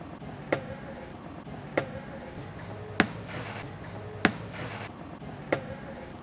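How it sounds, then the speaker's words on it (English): A time-stretched sample of footsteps climbing a flight of stairs, heard as five evenly spaced sharp, faint thuds set in a low background hum, with no talking. "which was me walking up a flight of stairs"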